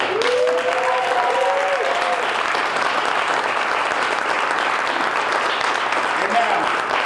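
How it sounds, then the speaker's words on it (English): An awards ceremony audience applauds on-site managers with a dense, sustained wash of clapping that stays loud and even for the whole stretch, with a few faint tonal sounds early on. "Now let's have a round of applause and acknowledge the professionalism of these"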